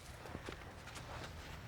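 A horse walks with a rider aboard during a riding lesson, hooves giving soft, irregular clip-clops over a steady, low background rumble, fairly faint and not close.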